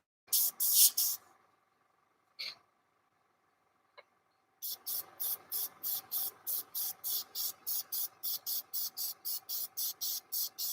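An airbrush sprays paint freehand onto the feathers of a duckling model, beginning with a loud hiss, a pause and a couple of short puffs, then settling into a steady series of rapid, evenly spaced close bursts.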